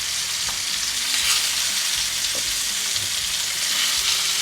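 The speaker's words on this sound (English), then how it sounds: "Yeah, the salmon is cooking." Salmon pieces frying in a pan for a butter masala dish, giving a steady, close crackling sizzle with faint scrapes of stirring throughout and no voices.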